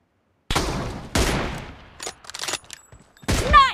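Gunfire in a team deathmatch shooter video game: loud bursts of rapid shots, a sustained volley then a second burst, followed by scattered single shots and a final loud burst with a whooshing effect.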